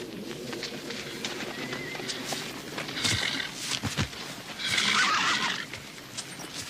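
Horses neigh and whinny in a western film, loud bursts around the middle and later part of the scene, mixed with bird calls and hoof movement in an outdoor setting, with no talking.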